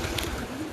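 Young racing pigeons coo softly in a loft, a brief low throaty murmur close by.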